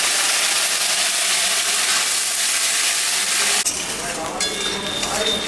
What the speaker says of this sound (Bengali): এখানে আদা জিরা শুকনো লঙ্কা কাঁচা লঙ্কা মেশানো বাটা আছে, দিয়ে দেব।